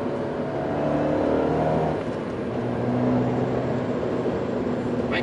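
A Fiat 124 Spider Abarth sports car drives up a windy mountain road at night, its engine humming steadily and rising gently under a constant rush of road and wind noise.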